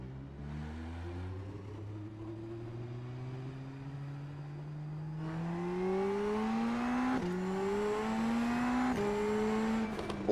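A race car in the iRacing sim burbles and climbs through the revs, its engine note rising steadily with a few sharp gear-change steps, heard alone at moderate loudness.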